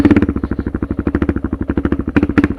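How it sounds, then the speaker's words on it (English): Suzuki DR650 motorcycle fitted with a Procycle jet kit, pulling under barely any throttle: a steady, close single-cylinder thump with evenly spaced firing pulses and a slight rise near the end. "just a little bit of throttle like this. Hear it just pulling."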